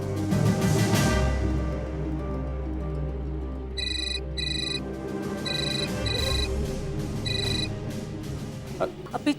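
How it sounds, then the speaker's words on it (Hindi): A telephone rings in repeated short electronic bursts over a steady low drone and background music, with the rings arriving in pairs across the middle of the scene. "प्लीज फोन उठाओ।"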